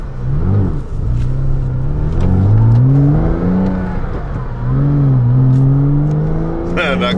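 A rear-engined manual sports car with a short shifter and factory flap sport exhaust accelerates hard, its engine note climbing through two quick upshifts in a loud, close rumbling drone, with brief speech inside the cabin.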